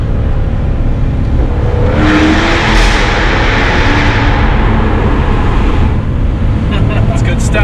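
A Jaguar F-Type's exhaust roars loudly inside a tunnel, a dense, continuous blast that swells into a harsher, brighter rush through the middle before settling back, heard close and full throughout.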